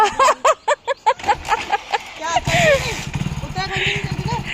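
Rapido motorbike engine running on a street, a steady low rumble underneath with traffic noise, heard after a stretch of speech from nearby people.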